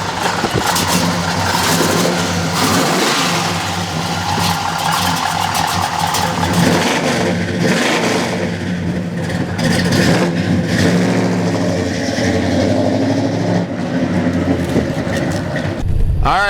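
A 1968 Pontiac GTO classic muscle car, its V8 engine rumbling at idle and revving repeatedly, with loud, deep surges rising and falling throughout and no voices.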